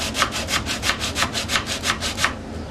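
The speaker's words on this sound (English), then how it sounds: "We're going to block sand. I'm going to go with 120 grit" Steady back-and-forth strokes of 120-grit sandpaper on a sanding block across a carved wooden diamond volute, about a dozen even rubbing passes in a brisk rhythm, close and clear with no talking.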